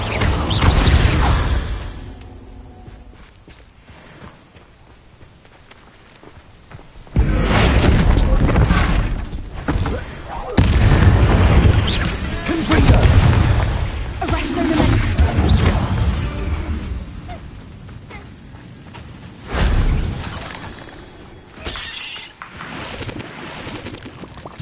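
A Confringo fire-blast spell goes off in Hogwarts Legacy, landing as several loud, booming bursts with whooshing, rumbling tails spread across the stretch, separated by quieter gaps of low ambient hum and game noise.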